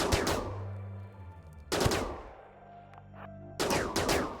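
Phaser rifles firing in the video game RimWorld, heard as three loud bursts of rapid sci-fi gunfire with lingering electronic tones between them and no talking.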